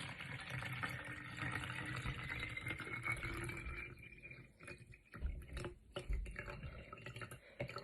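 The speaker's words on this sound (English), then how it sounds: "you want to pour just a little bit less water so it doesn't overflow" Water is poured steadily into a container up to a marked line, giving a continuous splashing trickle that thins and breaks into drips toward the end, with no talk.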